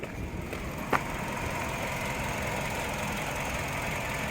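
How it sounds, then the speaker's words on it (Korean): A used Kia Carens LPG car with 240,000 km on it idles with a low, even engine hum, quiet and steady apart from one brief knock early on. "엔진 소리 한번 들려드릴게요"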